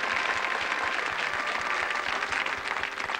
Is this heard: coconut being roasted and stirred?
no